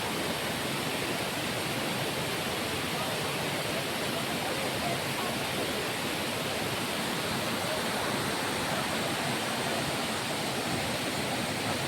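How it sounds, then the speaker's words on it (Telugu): Ravana waterfall in Sri Lanka pours from a high hillside, a constant broadband roar of falling water that stays even and loud for the whole stretch, with no other sound standing out. "Ravana water falls"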